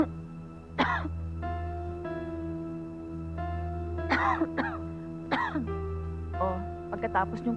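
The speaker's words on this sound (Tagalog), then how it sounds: "Inuubo na kayo." An ailing mother coughs and clears her throat in a home, several short harsh bursts spread through the scene over a steady low hum, with people speaking around the coughs.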